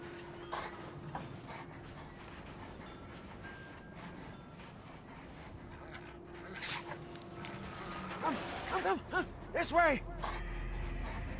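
A dog in the Mad Max video game whimpers and whines near the end in short rising and falling cries, heard after game noise and a shouted line of speech.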